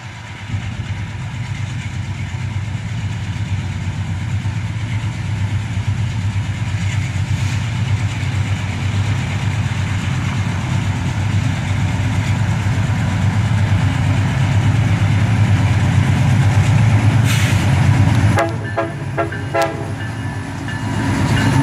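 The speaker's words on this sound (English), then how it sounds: "This train is led by an SD50." A CSX train led by an SD50 diesel locomotive rolls past close by with a loud, continuous rumble and clatter, and sounds a brief horn blast near the end.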